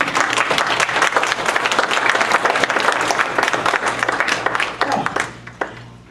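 Audience applause after a talk on Native lands and the law, a dense wash of many hands clapping for several seconds before thinning out near the end.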